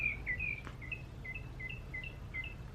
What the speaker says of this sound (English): The birds singing in the background all day.